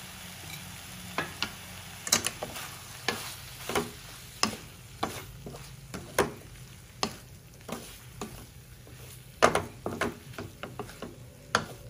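Fish roe frying in oil with onion, salt and garam masala, a steady close sizzle broken by repeated sharp clicks and scrapes of stirring at an irregular pace, with no voices.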